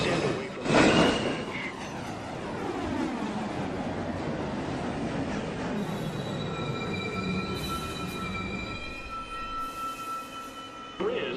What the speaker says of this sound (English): Uptown Local 1 Train to Rector Street. approaching the station.